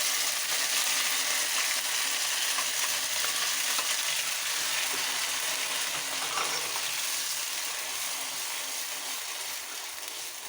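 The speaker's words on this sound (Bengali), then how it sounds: "কাঁচা কলাটার মিশ্রণটাকে দিয়ে দিতে হবে তেলে।" A raw banana peel mixture lands in hot oil with cumin seeds, producing a loud, dense, continuous sizzle that eases slightly toward the end, with light stirring underneath.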